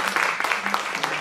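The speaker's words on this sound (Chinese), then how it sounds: "我们先给我们辛苦的钟局长一个掌声" An audience applauds at a talk on low-carbon urban transport, giving a burst of dense, even clapping from many hands that runs steadily through the moment.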